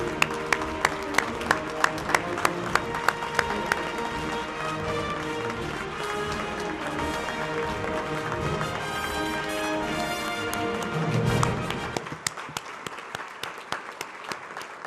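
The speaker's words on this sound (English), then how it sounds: "give a big round of applause and a thank you to all the veterans in the audience" Audience applause with rhythmic, sharp claps honoring veterans at a legal event, sustained and fairly loud before breaking into scattered claps near the end.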